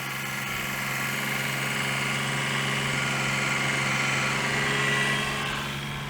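A Daewoo Matiz engine idles under maximum electrical load with a steady, droning hum and a faint buzzy vibration that holds even from start to finish, with no talking.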